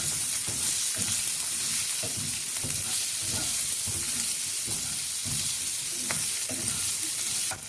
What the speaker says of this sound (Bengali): লবঙ্গ তেলে আগে দিইনি, কারণ এটা চোখে মুখে ফাটে খুব